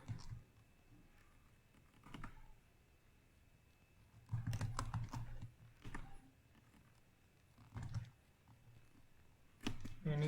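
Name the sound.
typing on a computer keyboard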